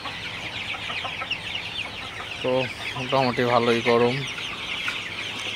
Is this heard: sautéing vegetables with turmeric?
no